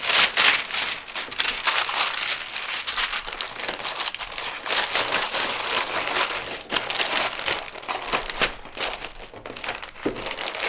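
A plastic table protector is crumpled and folded up after an art lesson, loud close crinkling and rustling that runs continuously with irregular bursts and short pauses, no talking.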